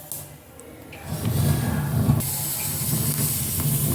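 Brinjal chars over an open flame, with a steady roaring hiss of fire that swells after the first second and carries on as a continuous close rush.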